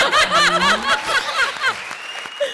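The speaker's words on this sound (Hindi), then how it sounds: "जोरदार तालियां।" Brief burst of clapping mixed with chuckles and laughter from a crowd, lively and close, fading slightly toward the end.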